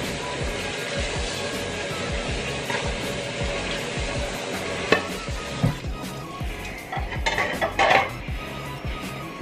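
Cooking pot being handled and scrubbed at a kitchen stove, with metal clanks, knocks and rubbing scrapes at irregular intervals, close by under a steady background hiss.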